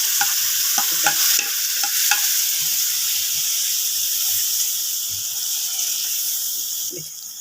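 Raisin and milk halwa with sugar is stirred steadily in a pan, giving a soft hiss and sizzle with scraping spoon strokes that click sharply at first, then settle into a continuous low simmering texture.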